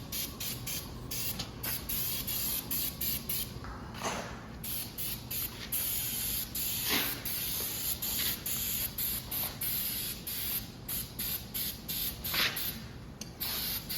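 A Lift Wise post puller is coated with a thick layer of spray paint, the can hissing in short repeated bursts with brief pauses between, close and steady, mixed with faint rattles and creaks.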